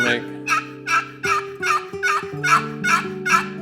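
A wooden box call scrapes out a rapid run of raspy turkey yelps and clucks in a steady rhythm, loud and close.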